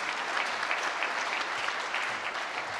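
Dense, sustained applause from a large audience at the opening of a congress of doctors and sport, an even wash of clapping throughout the brief moment.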